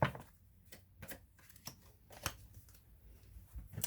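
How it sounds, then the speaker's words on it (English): Tarot cards are shuffled close up in a quiet room, a series of soft, uneven riffling snaps and taps spread over a few seconds with hushed pauses between them. "let me shuffle this one more time"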